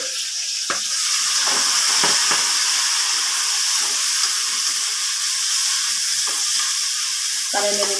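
Onions and fenugreek leaves frying in oil in a pan, a loud steady sizzle and hiss throughout with a few faint stirring knocks.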